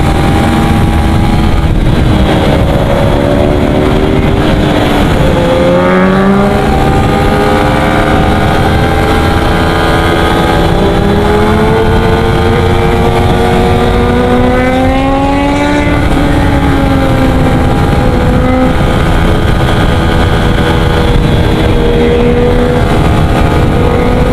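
A Yamaha Sniper 155 motorcycle with a 15T/48T sprocket setup runs flat out at top speed, its engine droning loud and continuous with slight pitch rises and dips amid heavy wind noise throughout.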